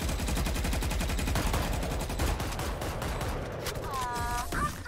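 Rapid gunfire in the video game Valorant, a loud sustained burst of evenly spaced shots that runs nearly the whole time before thinning into a few electronic chimes near the end.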